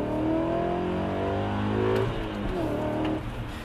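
An E39 BMW M5 accelerates hard, its engine note climbing steadily through the gear, heard loud and close from inside the cabin without talk.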